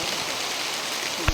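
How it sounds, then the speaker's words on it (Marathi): Rain patters steadily over a sugarcane field, an even wash of drops close around, with a single soft thump at the very end. "पाऊस पण आला योगायोग"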